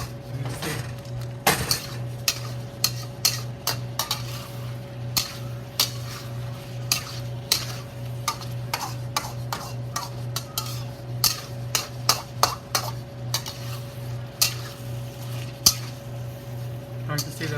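Scrambled eggs with shrimp fry slowly in a pan while a utensil scrapes and clicks against the metal in irregular strokes, under a low steady hum with soft sizzling.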